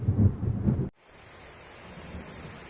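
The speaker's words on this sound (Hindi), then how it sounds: "तभी जोरदार बिजली कड़की और मूसलाधार बारिश शुरू हो गई।" A heavy rumble of thunder booms up close, then cuts to a steady wash of pouring rain.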